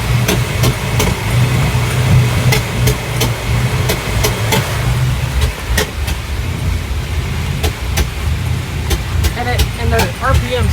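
A rough-running Mercruiser 7.4L 454 V8 engine on a Sea Ray 268 boat idles nearby with sharp, irregular pops and bangs over a low rumble, and a voice speaks toward the end.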